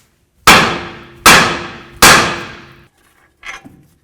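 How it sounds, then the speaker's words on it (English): Three loud metallic clangs from hammer blows on a steering knuckle of a 2007-2017 Jeep Compass, about a second apart, each ringing out, then a fainter fourth knock. "we're going to use a hammer and hit right along this area of the knuckle"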